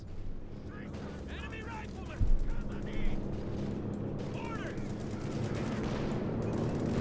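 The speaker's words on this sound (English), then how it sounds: "Machine gun up in the south." Bursts of machine gun fire and other gunfire crackle from the Company of Heroes 2 battlefield, fairly quiet and layered under continuous game noise, with one sharper thump partway through.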